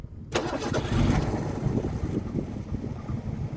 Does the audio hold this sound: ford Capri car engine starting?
yes